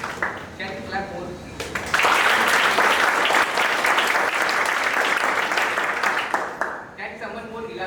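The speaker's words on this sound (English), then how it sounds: "Can you clap more?" Audience applause at a company induction ceremony, starting after speech and swelling into a dense, sustained clapping that runs several seconds before speech resumes near the end.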